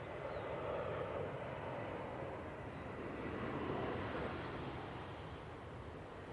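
An Emirates airliner comes in to land at Manchester Airport, heard as a faint, distant, steady jet roar with a broad rushing rumble that swells slightly and holds without any voices.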